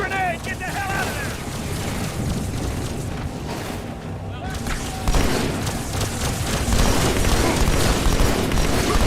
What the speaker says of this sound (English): Grenade! Get the hell out of there!